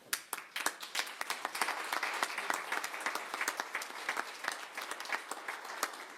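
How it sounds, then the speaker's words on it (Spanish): A room full of people applauding, steady scattered clapping that carries on evenly and fades slightly near the end. "Un aplauso, por favor"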